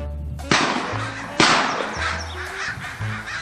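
A loaded shotgun fired outdoors on a coastal headland walk, with two sharp, loud blasts about a second apart. A gusty wind roar and low hum run underneath throughout.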